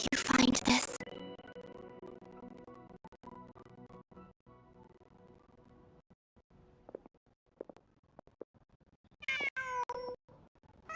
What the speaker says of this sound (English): No, it's just a cat.